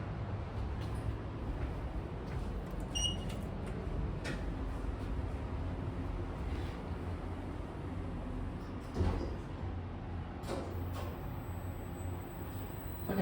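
Otis Gen3 machine-room-less traction lift with Wittur doors sliding open and shut, a low rumbling hum of machinery underneath, a few clunks and a soft chime near the start.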